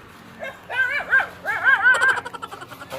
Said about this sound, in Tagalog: Ako, tinahulan ako ng aso.